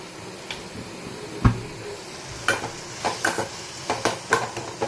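Onions and tomatoes sautéing in a pan, a soft sizzle broken by a series of spoon scrapes and stirring clinks, close and fairly quiet, no voices.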